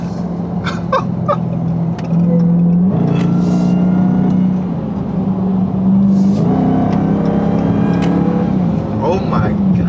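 A steady high supercharger whine rides over a loud, droning Dodge Hellcat engine that surges and revs, close and constant throughout.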